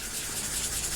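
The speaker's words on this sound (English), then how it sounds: "the coarse sanding stick has sanded away our CA glue" Coarse sanding stick rubbing over CA glue on a 1/48 scale plastic model F-14D Super Tomcat kit, a steady close, continuous scratchy abrasion with no pauses, heard alone.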